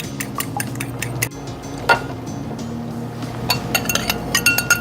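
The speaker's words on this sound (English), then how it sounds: "An egg, I'm just going to scramble it before I add it to my yeast mixture" An egg is whisked in a mixing bowl, sending out quick light clinks and taps against the side in an uneven rhythm, close and fairly quiet over a steady low background hum.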